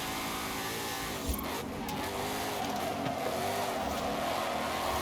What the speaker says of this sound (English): Do I actually have to drive this thing on the handbrake?